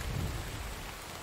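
Steady rain falls in the survival game The Infected at night, a brief, fairly quiet wash of dense patter with a low rumble at the start.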